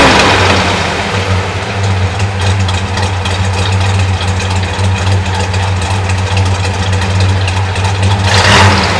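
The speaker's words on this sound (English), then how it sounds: "listen to the gurgle of that solid" Close by, a 1966 Chevy Impala big block V8 with a four-speed settles into a loud, gurgling idle with a low throb, ending on a brief sharper burst.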